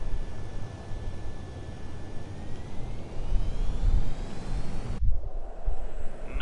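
Fighter jet engines from the Ace Combat 7 video game roar as a steady, loud broadband rush with a faint rising whine, cut abruptly near the end before the engine noise resumes.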